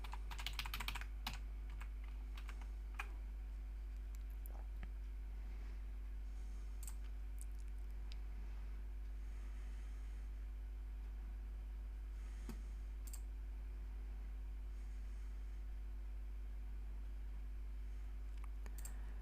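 Keys on a computer keyboard are tapped in quick, irregular bursts while a password is typed, close and fairly quiet, over a low steady hum.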